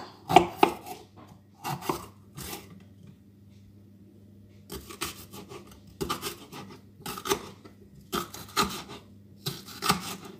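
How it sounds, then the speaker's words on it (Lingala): Bell peppers chopped with a knife on a board, with clustered bursts of quick cutting strokes separated by short pauses, close and clear over a low steady background hum. "nabandi kokata poivron na nga"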